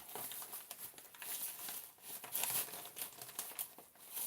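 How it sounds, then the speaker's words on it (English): Paper envelopes being rummaged through, with continuous close crinkling, rustling and occasional tearing-like crackles, moderately quiet and with no talk. "Let's see if there's one of their envelopes."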